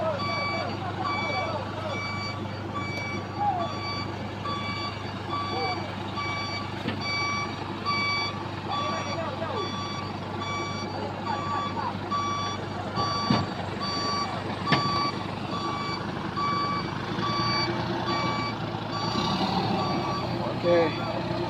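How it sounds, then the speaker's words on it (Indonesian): Reversing alarm on a Volvo trailer truck carrying a 45-ton load, backing down a steep incline: a steady series of evenly spaced beeps runs the whole time over continuous low engine rumble. Brief louder bursts come near the end. "Nampak truk trailer ini kesusahan untuk menanjak di tanjakan ekstrim Kedabuhan"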